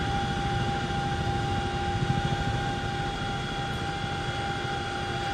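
Continuous loud Chinook helicopter engine and rotor drone with steady whining tones, unchanging throughout as the aircraft hovers nearby.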